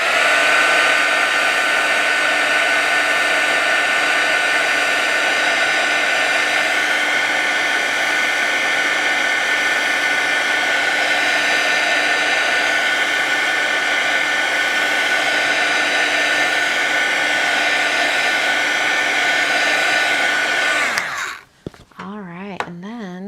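A hair dryer blowing on wet watercolor paint on a handmade Valentine's card gives a loud, steady whirring drone for about twenty seconds before it switches off and winds down.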